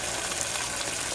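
Water rushes steadily through fish tanks during a water exchange at a fish hatchery, a dense, continuous gushing that stays loud and close for the whole short stretch.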